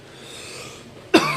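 A single sharp cough cuts in near the end after a quiet stretch of room tone, close to the microphone and loud against the hush.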